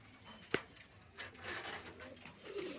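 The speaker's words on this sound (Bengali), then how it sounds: "অনেক দিন ধরে আছে এই পায়রাগুলো, খুব সুন্দর" Pigeons in a home loft with nesting pairs and young give soft, low cooing murmurs, with a sharp clap or flutter near the start over a quiet room background.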